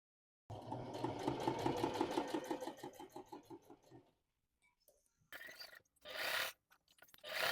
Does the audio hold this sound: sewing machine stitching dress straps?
yes